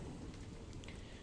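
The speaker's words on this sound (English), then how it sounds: "But it's definitely raining out there now." Rain falls steadily outdoors as a soft, continuous wash of noise during a Minecraft SkyFactory 4 session, faint and even with no voices.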